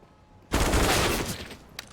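A burst of MP9 submachine gun fire in a Counter-Strike match, a dense rapid rattle lasting about a second that tapers off, followed by a single faint sharp report.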